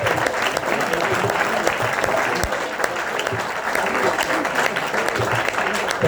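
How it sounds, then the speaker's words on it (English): Audience applause at a live broadcast event, a dense, continuous roar of clapping from the crowd that holds steady and loud the whole time. "Give a round of applause."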